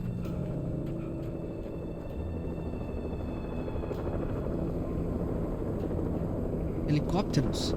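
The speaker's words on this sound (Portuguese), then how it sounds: "Helicópteros." A helicopter in the video game Alan Wake Remastered, its steady rotor rumble droning continuously and close, with a voice talking over it and a few sharp clicks near the end.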